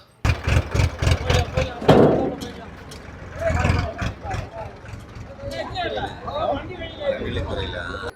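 A jeep engine rumbles and idles as the vehicle arrives near a hillside temple during a festival crowd, steady and fairly close beneath almost continuous talking.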